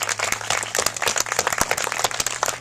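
Applause for volunteer drivers at a transit dedication ceremony, a small outdoor crowd clapping with scattered, uneven hand claps that are fairly faint and close together.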